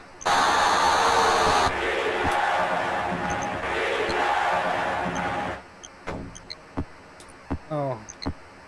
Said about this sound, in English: They could have done the crowd noise a little better